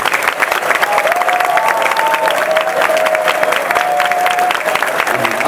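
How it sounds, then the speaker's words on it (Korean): Audience applause from a large crowd at an army officer academy event, a dense steady clatter of clapping sustained throughout, loud and close with some faint whistle-like tones threaded through. "뜨거운 박수 부탁합니다."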